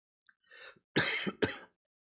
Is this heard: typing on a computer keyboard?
no